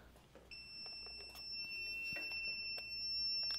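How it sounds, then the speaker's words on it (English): A heat press timer alarm sounds steady, high electronic beeping tones that hold across the clip, fairly faint, with no talking. "So if you guys keep hearing the timer, don't worry about it."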